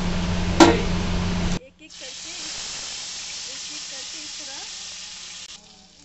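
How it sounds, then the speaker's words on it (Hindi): Marinated chicken pieces shallow fry in refined oil in a pan, giving a steady, close hiss and sizzle that starts abruptly after a short opening sound and runs for several seconds before dropping away. "मैंने पैन में थोड़ा सा रिफाइंड ऑयल डाला है और जो मैंने चिकन मैरिनेट किए थे, मैं उसमें से चिकन के पीसेस निकाल के इसमें शैलो फ्राई करूँगी।"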